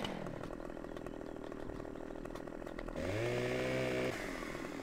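A chainsaw in the Farming Simulator 17 video game runs steadily at a loud, even drone, then revs up sharply for about a second before settling back, with no talk over it.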